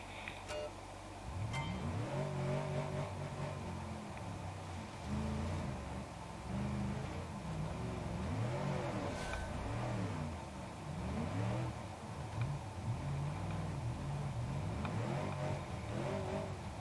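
A car engine in BeamNG.drive revs hard at full throttle, rising and falling in repeated surging waves of mid-pitched roar, loud and continuous throughout.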